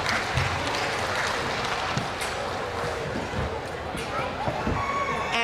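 Audience applause at a county fair youth crowing contest for 8 to 11-year-olds, a steady wash of clapping hands running throughout with crowd murmur and some talk beneath it.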